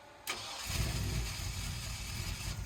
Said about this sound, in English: the little truck fired right up first time